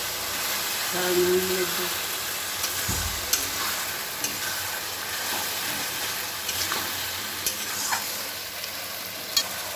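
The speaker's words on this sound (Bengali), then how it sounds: "আমি ভালো করে মশলা কষিয়ে নিচ্ছি" Spices frying and being stirred in a pan for Bengali prawn curry (chingri dopiyaza), a steady soft sizzle with scraping stirs and occasional clicks of the spoon, fairly quiet and close, with someone talking over it.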